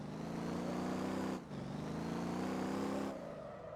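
A hot rod car drifting in a video game, its engine roaring loud and steady with harmonic revving, dipping briefly near the middle before surging back and easing off at the end.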